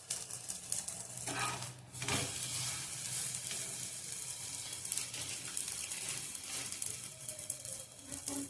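Pav bread rolls heating in butter in a hot pan with a dusting of chili powder, giving a steady close sizzle and frying crackle throughout, with a few soft stirring scrapes and utensil knocks.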